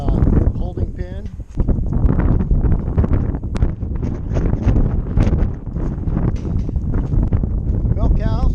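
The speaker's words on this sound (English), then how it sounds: "But kind of windy" Gusty wind buffets the microphone with a constant roaring rumble while a person talks throughout, outdoors at a farm milk barn.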